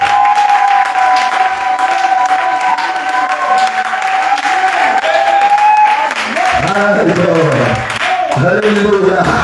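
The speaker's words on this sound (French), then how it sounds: "Est-ce que tu peux acclamer le Seigneur ce soir?" A church congregation applauds and cheers loudly and continuously during an evening worship service, with a preacher's voice speaking over the crowd noise.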